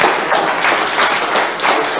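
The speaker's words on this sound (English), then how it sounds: "if we could have a lovely round of applause" Steady applause from a science seminar audience fills the whole stretch, a dense wash of many hands clapping at once with no voices standing out.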